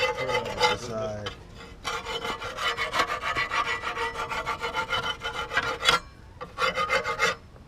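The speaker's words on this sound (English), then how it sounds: "scraping all this excess oil and dirt" A scraper rasps steadily against the side of a BMW E36 engine, working off excess oil and dirt in close, rhythmic strokes with a few brief pauses.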